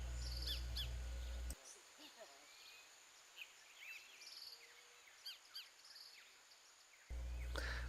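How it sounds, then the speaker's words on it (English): An indigo bunting calls in the Costa Rican outdoors, a series of short, high chirps repeating at intervals, with some insect buzz and ambient noise beneath, louder handling noise at the start and end. "It's the indigo bunting."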